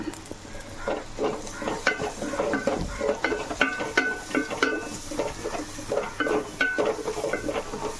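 Sliced onions with chopped ginger and garlic sautéing in oil for a Kerala chicken curry, a soft sizzle under frequent close scraping and clinking as a spoon stirs the pan, with no talk.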